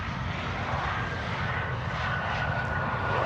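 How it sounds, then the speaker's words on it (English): Steady engine roar of a business jet near a runway at Amsterdam Schiphol Airport, a continuous, fairly distant rumble with no talk over it. "There it is, BizJet from Rotterdam to Amsterdam."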